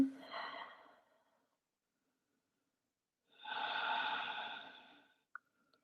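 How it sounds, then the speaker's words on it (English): A deep breath during a vinyasa yoga class: a soft inhale, a pause of silence, then a longer audible exhale, quiet and close, with a small click at the end. "One more deep breath."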